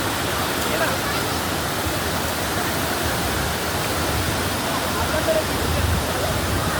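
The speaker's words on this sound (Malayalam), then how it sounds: "ലെഫ്റ്റ് സൈഡിലെ വാട്ടർഫോൾസിൻ്റെ തൊട്ടടുത്ത് നിന്നുള്ള വ്യൂ" Aruvikuzhy waterfall near Kottayam, Kerala, heard from close by: a steady, loud, broadband roar of falling water with no breaks.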